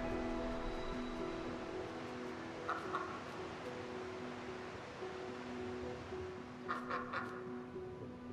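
A duck quacks in Lost Ember, a few short nasal calls in two brief clusters over soft ambient music and gentle outdoor background.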